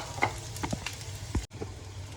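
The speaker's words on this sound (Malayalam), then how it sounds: "എണ്ണ ചൂടായിട്ടുണ്ട്. അതിലേക്ക് നമുക്ക് ഇതിട്ട് കൊടുക്കാം. സബോളയും പച്ചമുളകും ഒക്കെ ഇട്ട് കൊടുക്കാം." Onions and green chillies fry in hot oil with a steady, close sizzle and a few soft stirring knocks, with no talk over it.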